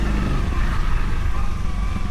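Scooters and other motor traffic pass along a street in Koh Samui, Thailand, a steady close engine drone with low rumble and no pauses.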